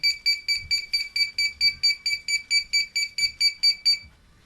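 Rapid, evenly spaced electronic alarm beeps from a remote-controlled hydraulic door lock, about fifteen sharp pulses in a steady rhythm, loud and close, then stopping abruptly when connected to 220 volts.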